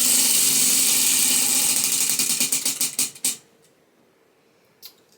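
A prize wheel spins with a rapid clicking that gradually slows, the ticks spacing out until it stops after about three seconds, followed by a faint single tap.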